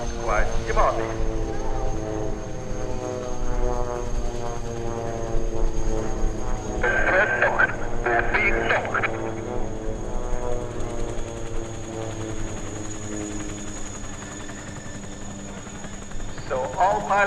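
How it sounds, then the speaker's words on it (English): A formation of four Pilatus PC-7 propeller trainers flies loops at an RAF Cosford airshow. The propeller engines drone steadily from the distance, rising and falling as they pass, with people talking over them. "Already approaching from the left side, 4 aircraft."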